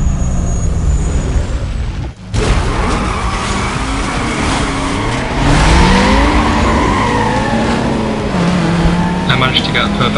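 Race car in the Need for Speed: Most Wanted video game revving hard at the start, then accelerating with rising engine whine through gear changes. Tires screech and someone talks over it.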